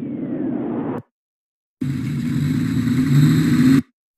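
Car engine running and revving, a loud steady rumble with rising tones, broken by a second of silence before it returns stronger and cuts off abruptly.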